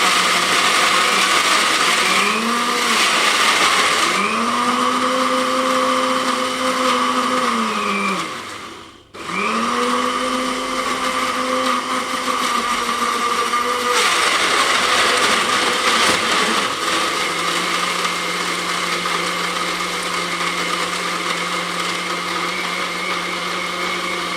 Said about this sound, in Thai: แล้วก็ กดเครื่องปั่นเลยครับ